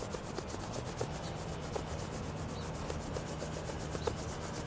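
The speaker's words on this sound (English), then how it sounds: "Rubbing the hands." Hands rubbing briskly together to warm them during a Ba Gua qigong warm-up, a steady close dry friction hiss that carries on evenly with no talking.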